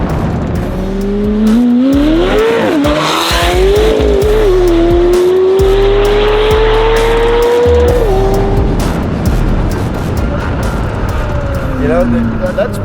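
A 1000hp McLaren 720S with a Novitec exhaust on a desert run revs hard and accelerates, its loud, rising engine note climbing and falling through gear changes close by, with voices heard over it.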